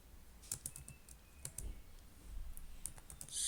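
Quiet, sparse keystrokes on a computer keyboard, close by, with irregular single clicks and brief pauses between them, ending in a slightly louder burst.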